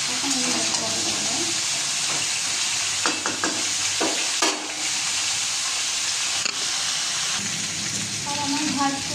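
Spices and vegetables frying in a pan beside a pot of rice cooking, a steady close sizzle with scraping stirs throughout, a brief voice murmuring under it.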